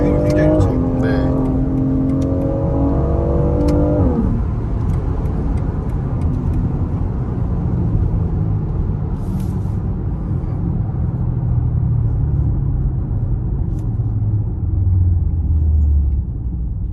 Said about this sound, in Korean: 이게 이 차량은 이제 6기통 모델이다 보니까 조금 카랑카랑한 사운드가 나요.